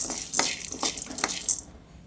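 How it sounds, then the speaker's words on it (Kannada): Roasted gram tipped into a pan, a few short, bright, hard rattling clinks close by, then quickly fading to quiet. "ಬಾಣಲಿಗೆ ಈಗ ಕಡಲೆ ಹಾಕ್ತಾಯಿದ್ದೀನಿ"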